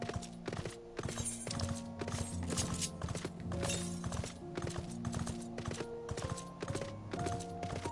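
A horse mount in Final Fantasy XIV trots with steady, crisp clip-clop hoofbeats under in-game music, the rhythmic footfalls continuing evenly throughout.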